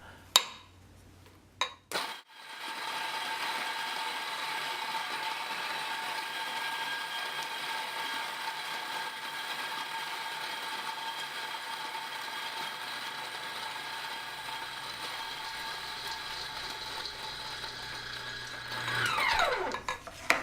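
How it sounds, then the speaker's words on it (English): A spouted coffee grinder grinds coffee beans straight into a pour-over cone, giving a steady, close mechanical whir and rasp that runs for about seventeen seconds after a few clicks, then winds down. "For me, I generally just grind directly into the cone."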